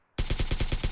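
Rapid automatic gunfire from PUBG Mobile, a tight burst of about seven evenly spaced shots that starts abruptly, loud and close, with no talk.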